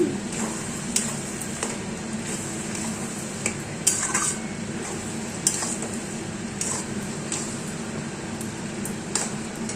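Kochu saak (taro leaves) stirred in a pan on the stove, a steady close scraping and squishing texture broken by occasional light clinks of spoon against metal, with no voices.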